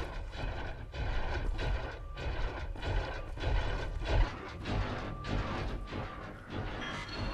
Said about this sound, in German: Da sind ja meine Hubschrauber.